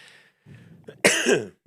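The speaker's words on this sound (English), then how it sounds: "I have this cough that won't end, man." A single harsh cough bursts out loudly after a few quieter breathy throat sounds, close to the listener.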